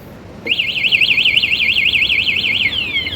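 A Honda Wave 125 anti-theft alarm goes off, a loud warbling electronic siren that rises and falls rapidly in a steady cycle for several seconds, close by and alone.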